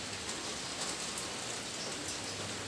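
Steady rain falls on a durian orchard, a dense, even hiss with faint patters, moderately quiet and continuous with no voices.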